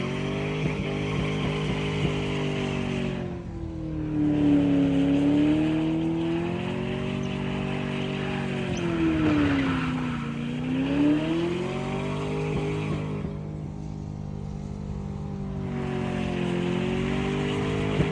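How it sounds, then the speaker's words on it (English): A tuned Holden SS Commodore fitted with an OTR intake and X-Force exhaust revs loudly and steadily, its pitch rising and falling in two long sweeps before settling back to a rumbling idle, with no talk over it. "this thing has definitely been tuned. It's got a OTR intake and X-Force exhaust on it."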